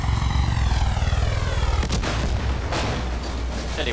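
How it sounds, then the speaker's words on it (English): Loud droning helicopter engine in a video game with a rhythmic thumping rotor pulse, joined midway by a sharp burst like gunfire over the roar. "Oh, it's a helicopter, I got this."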